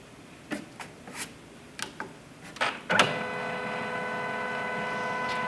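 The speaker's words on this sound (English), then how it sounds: "this is a laser color printer" A roughly 14-year-old HP color laser printer clicks and clacks a few times, then starts up into a steady mechanical whir with a humming drone, close and fairly quiet.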